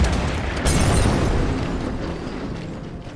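An explosion destroying artillery in the wartime strategy game Order of Battle: Winter War, a loud booming blast that quickly swells and then rolls away in a long fading rumble.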